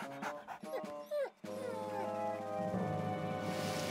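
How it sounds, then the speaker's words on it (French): Cartoon dog Radar whimpering in short, high whines and yips during the first second and a half, followed by a sustained musical score. "N'aie pas peur, mon toutou."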